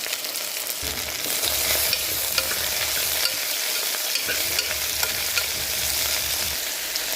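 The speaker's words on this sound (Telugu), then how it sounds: "మనం చాప్ చేసుకున్న పొటాటోస్ మనం చాప్ చేసుకున్న ఆనియన్స్ అన్నీ వేసి బాగా ఒక నిమిషం ఫ్రై చేయాలి" Chopped potatoes and onions sizzle and fry in a hot pan of tempered oil while being stirred, a steady close hiss with scraping stir strokes and no talking.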